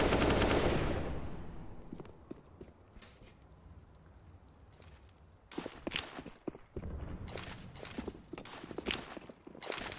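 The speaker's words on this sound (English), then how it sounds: "There's bullets flying through all the walls" Gunfire from CS:GO on the Nuke map: a loud opening burst, then a quieter stretch before several sharp bursts and rapid automatic volleys ring out through the rest of the clip.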